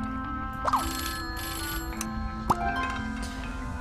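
An in-game telephone rings in Scribblenauts Unlimited, giving a clear electronic ringing tone over steady game background music.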